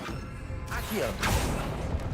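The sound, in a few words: Accio summoning spell in video game Hogwarts Legacy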